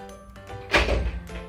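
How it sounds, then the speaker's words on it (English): A dormitory door swings shut slowly, its closing thud landing near the middle with a brief low rumble before quieting, heard nearby against a faint hum of the building. "door's closing so slowly."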